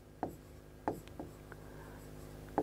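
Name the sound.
writing the amount on a cheque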